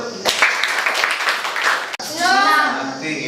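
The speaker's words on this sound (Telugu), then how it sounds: "గుడ్ క్లాప్స్ అందరూ" Schoolchildren at a village high school clap together for a classmate, a dense burst of applause that runs steadily and then gives way to a voice speaking.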